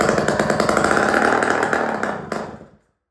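A 1993 Yamaha YZ80 two-stroke dirt bike engine runs loud and close with a raspy, buzzing idle, steady for over two seconds before it cuts out abruptly and falls silent.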